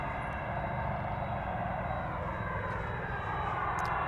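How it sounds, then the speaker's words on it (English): A 28-year-old Boeing 767-300 freighter being pushed back at the airport at night: a steady, loud, broadband jet engine roar and whine that holds constant throughout, with no talking. "Louisville gets pushed back. This is a 28-year-old 767-300 freighter."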